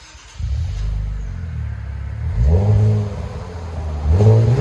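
A 3.0L V6 in a 2019 Infiniti Q50 with a Stillen cat-back exhaust blips through several revs: a deep idle burble rising into two throaty swells, close and loud with no talk.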